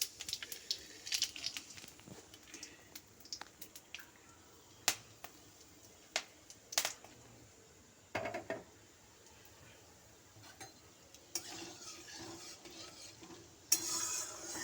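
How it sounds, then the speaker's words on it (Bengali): Shahi jeera spices tempering in hot oil on low heat, faint scattered crackles and sharp pops with occasional utensil clicks, quiet and close, without speech. "তেল গরম হয়ে গেছে, একদম লো আছে, এগুলো ফোড়ন দিতে হবে।"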